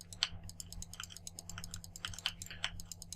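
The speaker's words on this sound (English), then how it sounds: "There's a lot of clicking involved." Rapid, light clicks of a computer mouse or keys while crafting in Minecraft, a dense irregular patter of close, crisp taps over a faint steady hum.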